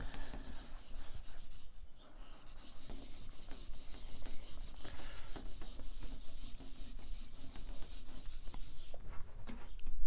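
A board is rubbed and erased during a chemistry lesson, producing soft, repeated scraping and rubbing strokes at moderate distance, fairly quiet with brief pauses between passes.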